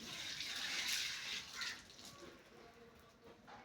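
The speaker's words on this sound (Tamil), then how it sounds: "இப்போ நம்ம இந்த கொத்தமல்லியை நம்ம லவ் பேர்ட்ஸுக்கு கழுவி போடலாம்" Tap water runs and splashes over fresh coriander leaves being washed for pet lovebirds, a faint, steady gushing that swells early and then eases off.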